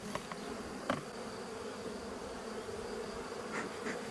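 A honeybee swarm buzzing around a small five-frame hive box, a dense, steady, fairly faint drone with a few individual bees passing close.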